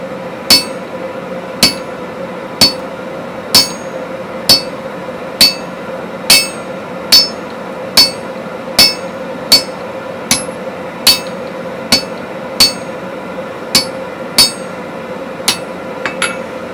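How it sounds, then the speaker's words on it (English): Regular ringing hammer blows on hot steel over a cutoff hardy at a forge, about twenty evenly spaced sharp metallic strikes with a steady background hum, close and loud. "Now we are going to cut it off with a cutoff hardy,"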